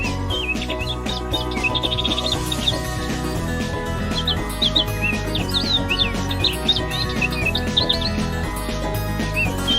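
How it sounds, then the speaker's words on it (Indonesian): Birds chirp and tweet repeatedly in an animal-sound guessing game for children, with bright high calls scattered throughout over a steady bed of background music. "Burung, benar."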